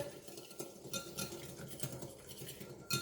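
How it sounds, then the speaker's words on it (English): A whisk beats egg yolks in a bowl for a chocolate cake batter, making quiet, quick rhythmic clicking and scraping strokes against the bowl. "now what we need to do is whisk the egg yolks"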